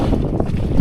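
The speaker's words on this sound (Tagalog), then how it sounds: "Grabe na yung hangin." Strong wind buffeting the microphone aboard a small fishing boat at sea, a loud continuous roar with gusty swells and no talk.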